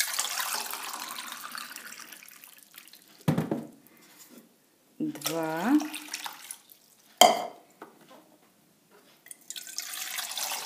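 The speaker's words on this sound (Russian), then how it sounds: "стаканчика выливаю в кастрюльку." Water pours into a pot in separate glass-sized bursts, the pitch rising as it fills, with a clink and a single spoken word between pours, while making sorrel soup.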